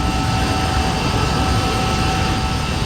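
A de Havilland DH.100 Vampire jet engine in Flight Simulator X drones loud and constant, holding a steady whine and roar throughout without any voices.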